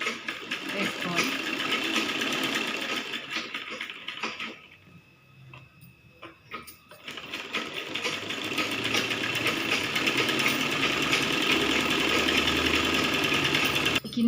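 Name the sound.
sewing machine stitching a baby saree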